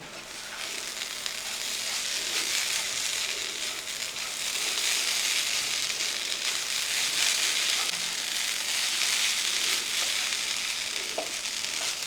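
Mashed fish is stirred in a hot pan, giving a steady, close sizzle and frying hiss with soft scraping from the stirring throughout. No voices are heard.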